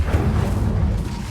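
A fiery Incendio spell cast in Hogwarts Legacy, a steady low roaring rumble of flames with soft thumping, loud and continuous for about a second.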